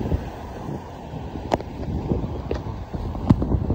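Steady wind buffets the microphone beside the Sungai Serdang river, a continuous low rumble with a couple of brief sharper gusts, heard alone without talk.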